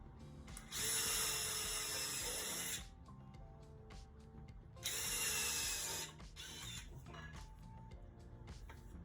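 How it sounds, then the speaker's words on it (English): A cheap grinder has its wheel swapped during a storm door jamb repair: two loud whirring bursts of the motor spinning up, with quieter clicks and handling noises between them. "I just have to put a different wheel on this grinder."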